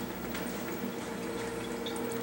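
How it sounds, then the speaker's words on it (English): A small waterfall trickles in a steady, continuous splash. The sound is moderately loud and holds an even wash without pauses. "Got a little waterfall going on."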